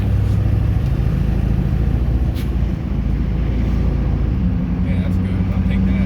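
A Duramax truck with an Allison 5-speed transmission, just fitted with a new valve body, drives down a street with a constant low engine and road rumble inside the cab while someone speaks briefly.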